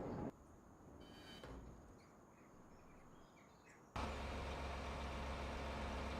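A tractor engine in a farming video game drones at a low steady pitch, quiet at first with faint birdsong, then abruptly louder and fuller after a few seconds.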